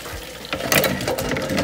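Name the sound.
cold water poured over boiled eggs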